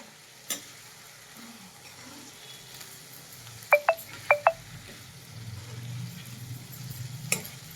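Food fries quietly in a pan with a soft steady sizzle, broken by a few sharp clicks and taps of a utensil against the cookware partway through.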